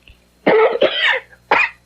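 Three close, harsh coughs in quick succession, the first two run together and the third after a short pause.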